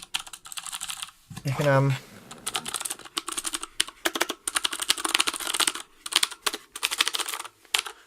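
Rapid, clacky keystrokes from a wireless mechanical keyboard with green Cherry MX switches, typed in steady bursts close by, with a brief voice at the start.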